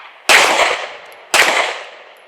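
Two sharp, loud gunshots about a second apart, each with a long ringing decay, fired during a timed drill at an outdoor shooting range.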